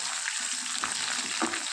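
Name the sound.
onion pieces frying in tempering oil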